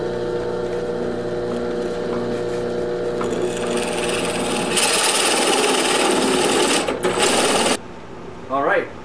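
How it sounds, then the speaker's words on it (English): An electric drill runs with a 1 1/2 inch bit boring into wood, a loud steady whir close up that rises as the bit bites and then cuts off sharply, followed by a brief voice. "So I'll drill a couple more like this and then go up to the 1 1/2 inch drill bit."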